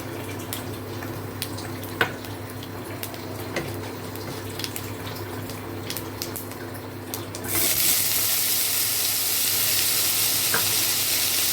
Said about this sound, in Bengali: আলুটা আগে একটু নেড়ে নেব